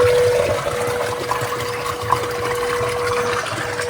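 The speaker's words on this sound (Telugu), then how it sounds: "ఇక్కడ చూస్తే వాటర్ అనేది ఎక్కడి నుంచి కోనేరులోకి వెళ్తున్నాయి" Water flows steadily into a stone temple pond at Yaganti, a continuous rushing trickle heard close with a faint steady hum beneath.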